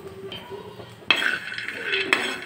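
Peanuts are stirred in a pan as they roast for chutney, with a few close, sharp metallic clinks and scrapes of a utensil against the pan over a quiet background.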